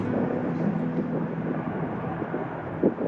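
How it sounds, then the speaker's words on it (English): A broad, steady roar of a distant airplane taking off fills the background, constant and rumbling, with faint wind noise, heard from a park in New Orleans. "Kind of romantic watching planes take off together."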